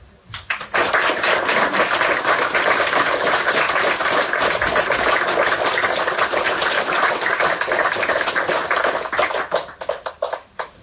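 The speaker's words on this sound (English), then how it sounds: "Let's give another warm applause." An audience at a youth church service applauds after a youth testimony, with dense, steady clapping from many hands for about nine seconds before it tapers off into scattered claps.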